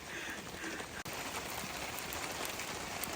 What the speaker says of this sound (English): What it's like cooking in the rain.